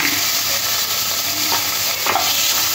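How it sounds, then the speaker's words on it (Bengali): Prawns coated in salt and turmeric frying in hot oil in a kadai, a loud, dense and continuous sizzle with a couple of brief stirring scrapes. "এবার নুন আর হলুদ মাখানো চিংড়ি মাছটাও ভেজে নেব"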